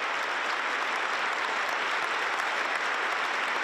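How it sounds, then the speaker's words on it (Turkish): A concert audience gives pianist Fazıl Say a standing ovation after his Zeybek finale, a dense, steady roar of many hands clapping at once that stays even and loud throughout. "ayakta alkışladı"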